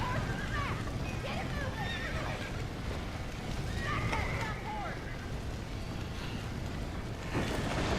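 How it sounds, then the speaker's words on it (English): Horse whinnying in the Red Dead Redemption video game, rising neighs repeating over a steady rumble of hooves and wind, with a voice talking at times. "Vai ter que libertar esse cavalo aqui, né?"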